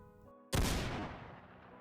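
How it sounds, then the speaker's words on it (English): A single loud blast from an aged Remington 12 gauge sawed-off hunting shotgun, hitting sharply and then trailing off in a long, rumbling decay with no voices. "Fire spat from the sawed-off barrel of the aged hunting gun"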